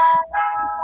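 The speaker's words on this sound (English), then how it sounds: "Do you all hear the ice cream truck?" Ice cream truck outdoors playing its electronic chime tune, a steady bright melodic jingle heard clearly at moderate distance, with a short dip in the middle before the tune carries on.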